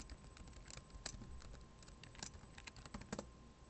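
Rapid keystrokes on a computer keyboard, a quiet, close patter of uneven taps while entering a password at a command line.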